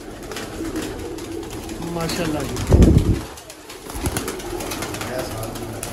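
Pigeons coo softly in a breeding loft, low repeated coos under a voice, with a brief loud burst of handling or wing noise in the middle.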